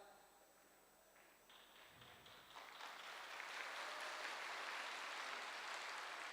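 An audience at a speech event breaks into clapping that starts faint and swells into steady, sustained applause from many hands.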